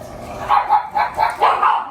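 Several dogs bark in short, repeated bursts nearby, a run of yaps and woofs spread across the moment with brief gaps between them.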